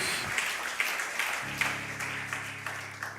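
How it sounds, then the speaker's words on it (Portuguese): A church congregation applauds during a worship service: steady, dense clapping throughout, with a sustained low organ or keyboard tone entering partway, at moderate level. "Você pode aplaudir mais forte ao Senhor?"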